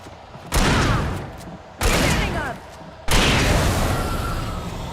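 Gunfire in the Alan Wake 2 video game: three loud bursts of shots, each starting sharply and trailing off, spaced about a second apart.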